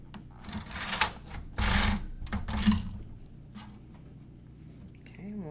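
A knitting machine carriage knits a faux fur slipper, giving a close, loud rasping and clattering sweep in several uneven bursts, then settling into quieter mechanical ticking.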